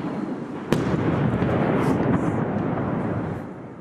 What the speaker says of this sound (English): you can hear the explosion in the background